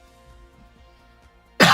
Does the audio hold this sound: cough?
yes